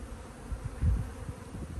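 Honeybees buzz close by during a hive inspection, a low droning hum that swells briefly, with no voices.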